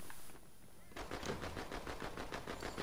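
Video-game gunfire in Fortnite: a steady string of machine-gun shots rattles in regular rhythm at moderate distance, starting after a quieter opening moment.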